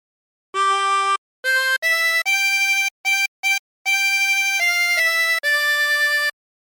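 Harmonica playing a phrase of Waltzing Matilda with bends, a run of clear sustained blown and drawn notes with short gaps between them, close and loud, played alone.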